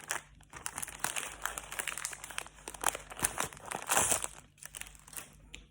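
Paper crinkles and rustles in quick, irregular bursts close by, sheets being shuffled and handled with soft crackling.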